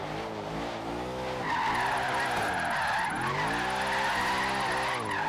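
In the video game Forza Horizon 3, a car drifts with a continuous loud tire skid over a steady engine drone whose pitch wavers as the slide goes on.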